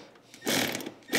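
A ratchet tightens the headlight mount on a C5 Corvette, a close burst of rapid clicking that runs for most of a second, then a short final click, no talk.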